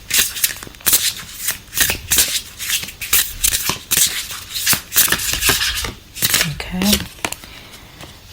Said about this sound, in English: Okay, now we're gonna pull some oracle cards.